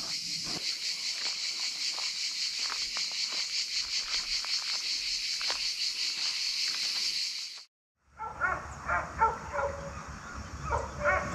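Dogs barking at night at a campsite, repeated yips and barks over a steady dense chorus of crickets, which cuts out briefly before sharper barking resumes.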